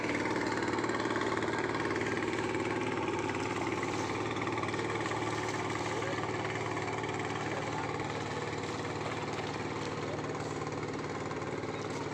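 A fishing trawler engine on the Meghna River, out for hilsa, drones steadily and continuously at close range for the whole stretch, with no talk over it.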